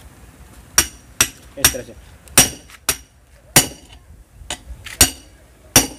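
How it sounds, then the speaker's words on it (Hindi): Hammer blows on a steel tyre-removal tool set against a tempo tyre ring out as about ten sharp metallic clanks at an irregular rhythm, close and loud, with someone speaking briefly between strikes. "इसको यहाँ पे रखेंगे कुछ इस तरह से, और इसको चोट लगाएंगे ऊपर से हथौड़ी को"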